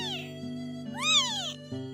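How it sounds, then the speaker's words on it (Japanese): A small kitten meows from somewhere in a garden in the early evening, giving a faint high cry, then a louder rising-and-falling meow, with a steady low hum underneath. "小さく可愛らしい子猫のような鳴き声を耳にしたのです。"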